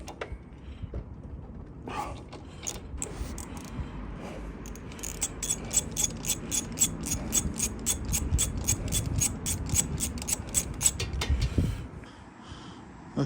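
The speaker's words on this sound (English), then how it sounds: "Get your spark plug wrench." A spark plug wrench ratchet removing the spark plug from a petrol lawnmower that won't start, with a few scattered clicks, then a long run of quick, evenly spaced ratchet clicks close by before it goes quiet.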